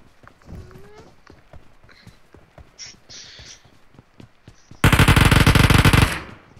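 Burst of sustained automatic gunfire in the BGMI squad battle game, loud and dense for over a second, following quieter scattered shots, footsteps and game effects.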